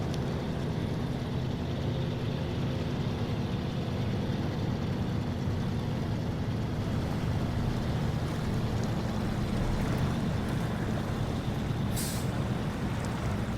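Heavy Fleetstar F2070A truck in SnowRunner grinding forward with its back wheels digging in, a steady loud engine drone and rumble running the whole time with a brief hiss near the end.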